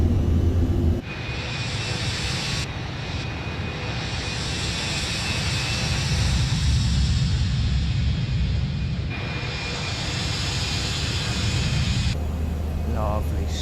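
Embraer E175 jet engines roaring steadily as the airliner climbs after takeoff in Microsoft Flight Simulator, a loud continuous rumble and whine with a brief cut near the start, while a voice talks over it.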